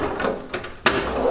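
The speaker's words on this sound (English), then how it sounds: "Drawer operation is super smooth" A brand-new drawer on a US General 56-inch steel toolbox slides with smooth, brief rolling rumbles, then a sharp close clack, all near and without voices.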